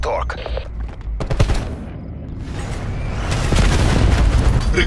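Hellstorm missile launches and explosions in the Call of Duty Black Ops 4 video game, a rolling barrage of booms and crackling gunfire-like blasts that grows louder and denser toward the end, with game voice lines under it.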